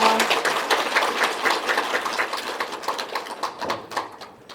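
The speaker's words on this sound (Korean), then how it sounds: "박수 다시 한번 주십시오" A hall full of people at a Buddhist dharma assembly claps steadily, a dense patter of many hands that gradually thins and softens toward the end.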